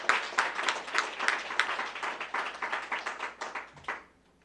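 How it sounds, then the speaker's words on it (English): A conference crowd claps for the Amazon workers in a fairly small, moderately loud round of distinct hand claps that holds steady for about four seconds, then stops abruptly. "give a round of applause again for the Amazon workers"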